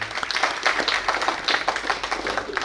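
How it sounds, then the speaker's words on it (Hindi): Audience clapping for donors at the inauguration ceremony of Prabhu Upahar Bhawan, a dense, even patter of many hands that stays fairly loud across the whole moment without speech. "इसमें सभी सहयोगी दानदाताओं के लिए तालियां बजा दीजिए।"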